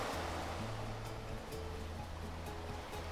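Ocean waves washing in a steady, faint surf hiss, with soft sustained tones running beneath as calm background for a home yoga session.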